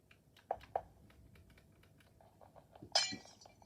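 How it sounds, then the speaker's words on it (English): Glass blocks breaking in the video game Minecraft: a few sharp, bright clinking shatters, two early ones close together and a louder burst near the end, with quiet clicks between. "And then get some more glass and place it and break it."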